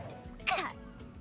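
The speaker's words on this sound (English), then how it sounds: "You'll hear me cough too." A single short cough from a man who has just eaten a hoagie, close and fairly quiet, a brief burst over low room noise.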